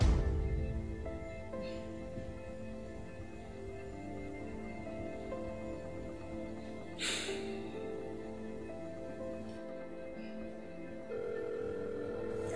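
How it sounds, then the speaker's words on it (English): A telephone ring tone hums steadily and fairly quietly for several seconds, with a brief soft noise partway through. "The phone is ringing."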